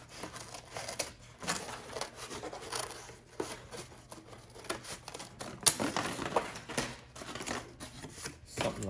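Scissors cut out a paper fender template for a Honda Sabre rear fender modification, giving a steady run of close snipping, crinkling and rustling paper with no talk.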